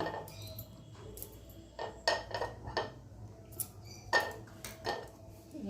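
Green chilies chopped fine being mixed into a resting batter for pumpkin-flower fritters in a metal bowl, heard as a few sharp clinks and scrapes of a spoon against the bowl in short bursts over a low room hum, with no talk.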